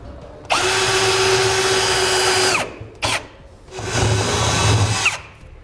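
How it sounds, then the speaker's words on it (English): A power drill drills a pilot hole while a fifth wheel trailer hitch is installed on a 2014 Toyota Tundra, whining loudly for about two seconds, stopping, giving a brief burst, then running again for a second long stretch. "I'm going to drill a pilot hole first."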